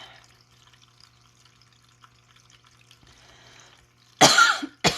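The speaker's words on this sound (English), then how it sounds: "My husband's coughing too." A man coughs indoors, a short loud burst followed by a second brief cough after a few seconds of quiet background trickle.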